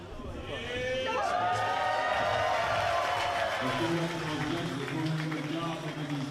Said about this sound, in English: Round of applause for both our fighters who meet in the middle now to hear the official decision.